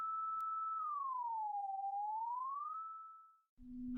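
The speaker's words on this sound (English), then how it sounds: "modulating it by a sine wave moves down the frequency with the negative half of the sine wave" A steady electronic sine tone from the CrusherX audio effect, speed-modulated by a sine wave, glides smoothly down in pitch and then back up, holds, cuts out, and gives way to a lower steady tone.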